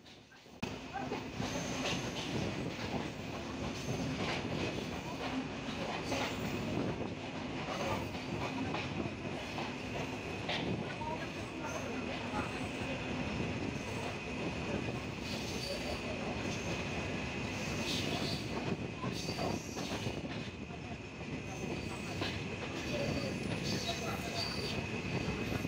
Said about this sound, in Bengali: আমাদের চিত্রা এক্সপ্রেস ট্রেন থ্রোপাথ যাচ্ছে ধীরাশ্রম রেল স্টেশন।